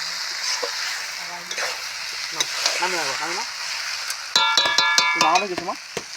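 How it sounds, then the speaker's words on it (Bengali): Small river fish such as tengra and singi fry in a pan with a constant loud sizzle, broken by metallic clinks of stirring, while people talk over it. "এরপর বসিয়ে দেবো মাছ ভাজা"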